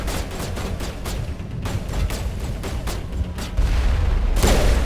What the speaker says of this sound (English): Eat my grenade.